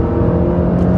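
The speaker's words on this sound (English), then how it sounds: "The turbo kicks in." A front-wheel-drive 2020 Mercedes-Benz A220 with a 188-horsepower turbocharged engine accelerates hard, giving a steady, loud engine drone and road roar heard from inside the cabin for about a second, with no talking.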